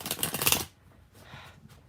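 Tarot cards shuffled by hand in a quick, dense burst of papery riffling, close and fairly loud, then falling away to quiet room tone with a few faint soft rustles.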